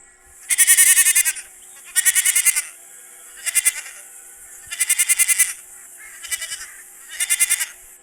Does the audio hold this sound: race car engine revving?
no